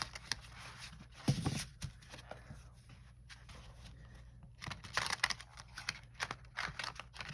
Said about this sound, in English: I still need to shuffle them this way.